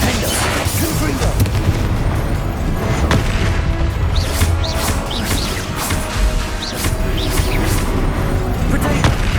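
Confringo blasting spell explosions in the Hogwarts Legacy video game, loud booming bursts in a dense, continuous battle mix with crashes and effects throughout, under a speaking voice.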